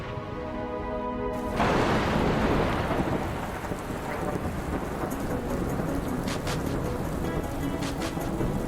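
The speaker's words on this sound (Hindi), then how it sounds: "बारिश होने लगी है।" Rain begins falling: a steady hiss of heavy rainfall with thunder rumbling, moderately loud and continuous, with no speech.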